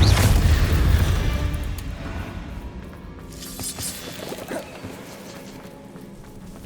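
The Confringo blasting spell in Hogwarts Legacy explodes with a loud, deep boom at the start, then rumbles and crackles as it fades into scattered debris-like clatter.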